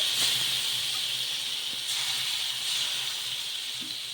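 Rava dosa batter hitting a very hot pan gives a steady, close hiss of sizzling that holds evenly throughout with no talking.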